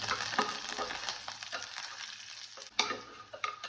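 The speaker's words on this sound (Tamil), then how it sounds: "வெங்காயம் நல்லா வதங்கணும்." Onions frying with curry leaves in a pan for a radish and dry fish curry, a close sizzle with brisk stirring scrapes and a sharp clatter near the end, no talking.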